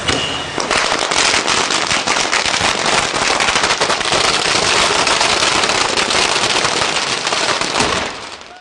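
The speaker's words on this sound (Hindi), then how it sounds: "बाबा साहब के अनुयायी बड़ी संख्या में इस समय मौजूद थे, जिन्होंने यहां आतिशबाजी कर खुशी जाहिर की।" Rapid strings of firecrackers and fireworks crackle and pop continuously at a celebration of Babasaheb Ambedkar's followers at a statue unveiling in Indore, a dense, loud barrage of sharp bangs lasting several seconds before tapering off.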